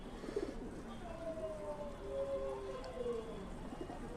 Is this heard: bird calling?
yes